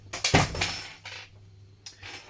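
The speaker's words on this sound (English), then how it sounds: "that was the sound of all my screws going on the floor." Screws spill onto the floor during an ambulance power distribution box teardown, a quick burst of small metallic clatters and bounces, then a few scattered taps after a short pause, close and fairly faint.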